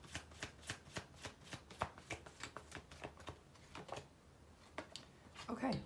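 Tarot cards shuffled in quick riffling bursts, a steady run of crisp rapid flicks close to the microphone, pausing briefly before a final louder rustle of cards.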